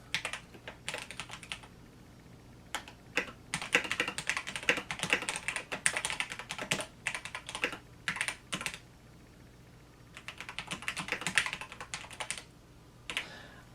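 Keys clatter on a DrunkDeer A75 mechanical keyboard in close, quick bursts of crisp clicks, with a short pause partway through and no talking.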